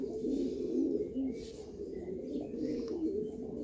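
Pigeons coo steadily and close by, a low throaty burbling that runs continuously through the whole stretch, with a few faint higher chirps scattered above it.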